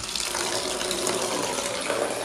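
Water being poured for pet birds, a steady gushing splash running continuously for a couple of seconds, close and fairly loud.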